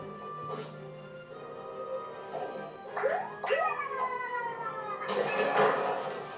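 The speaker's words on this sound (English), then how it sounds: "That was the sound of Yoshi just losing or crying or something." Yoshi crying out after losing in Mario+Rabbids Kingdom Battle: a couple of rising, whooping cartoon wails over background game music, then a brighter burst of sound near the end.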